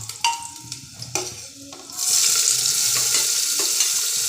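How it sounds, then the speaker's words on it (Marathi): Garlic and onion tipped into a hot pan, opening with a few clinks and light handling, then a loud, steady sizzle that carries on to the end. "पहिलं लसूण आणि कांदा टाकून घेतो"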